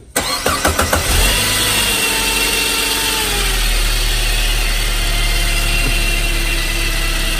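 A 2006 Saab 9-5 Turbo engine, a flood-damaged car, cranks with several quick starter pulses, catches, and settles into a steady, loud idle that runs close by without talk.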